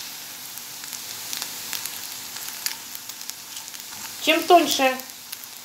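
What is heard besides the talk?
crab sticks sizzling in a frying pan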